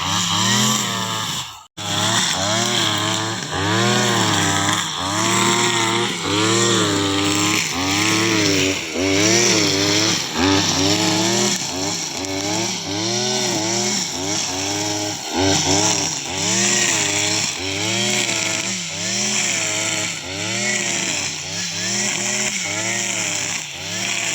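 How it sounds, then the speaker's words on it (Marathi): Loud Kisan Kraft brush cutter engine running continuously up close, revving up and down in repeated surges as it clears undergrowth in an orchard. "विवेकने रान मारूक सुरुवात केल्या"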